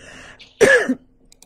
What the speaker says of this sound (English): I think I'm getting a cough.